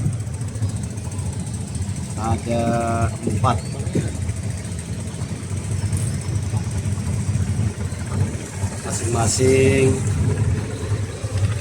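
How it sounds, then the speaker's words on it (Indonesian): Four 250 PK marine engines run in the engine room of the ship SB Kurnia 2, a steady low drone throughout, with people talking over it. "Nah, inilah mesin dari kapal SB Kurnia 2."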